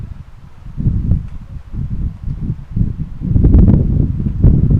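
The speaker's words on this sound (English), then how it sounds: "Apologies if you can hear the wind, guys. It is very windy out here." Gusty wind buffets the microphone at an outdoor cricket match in low rumbling bursts, rising and falling throughout and growing stronger toward the end, with no voices.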